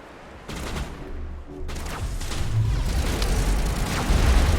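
Shotgun loaded with shredder rounds firing in a Mass Effect battle against a Krogan, heavy booming blasts layered with dense rumbling gunfire and explosions that build in loudness, no talk.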